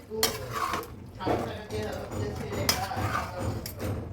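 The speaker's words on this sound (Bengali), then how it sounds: "একটু নেড়ে মিশিয়ে নিচ্ছি" A spoon stirring duck meat curry in a pan, with several sharp metallic clinks and scrapes against the pan over a faint sizzle, close and intermittent.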